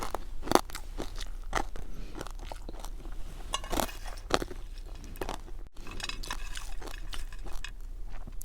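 Fried chili snack being eaten outdoors in snow, close, crisp crunching bites with sharp cracks in an irregular rhythm, chewing continuing between them, no talking.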